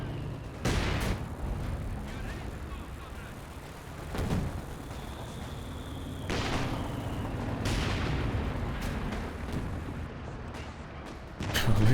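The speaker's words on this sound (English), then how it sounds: "Dropping ISG smoke rounds to cover the cap." An ISG infantry gun in a video game firing smoke rounds: several heavy booms roughly every two to four seconds, each a sharp blast with a rumbling tail, amid ongoing battlefield noise.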